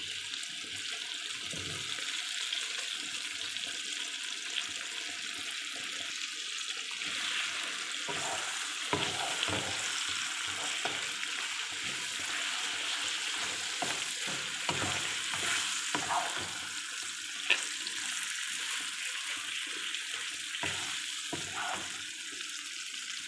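Pieces of meat stirred and fried in a spicy masala for a hot, fiery meat curry: a steady, close hiss of sizzling with repeated scraping and stirring strokes in the pan, continuous throughout with no talk.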